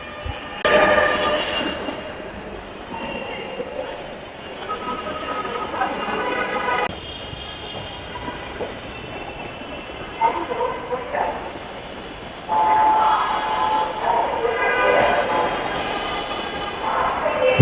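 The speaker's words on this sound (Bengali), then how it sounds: "অপেক্ষা করতে করতে মেট্রো রেল চলে আসছে" A metro rail train pulls into a station with a sustained, rising and shifting rumble and whine, close and fairly loud throughout, with scattered voices nearby.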